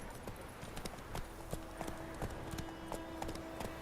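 Roach, a horse in The Witcher 3 video game, gallops in a steady, rapid rhythm of hoofbeats that continues throughout, set against a dense, busy game soundscape.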